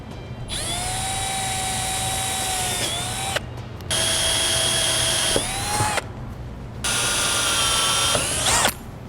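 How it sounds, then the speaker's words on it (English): A power drill with a 7/8 inch hole saw whines through metal in three long bursts separated by short pauses, its pitch dipping slightly under load near the end of each run. "Now we're gonna use a 7/8 inch hole saw, and we're gonna drill those out at those marks."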